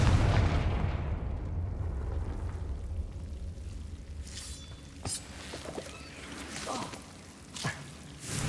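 A Confringo fire spell exploding in Hogwarts Legacy, a heavy booming blast that rolls off into a rumbling decay, followed by scattered crackling impacts and debris pops.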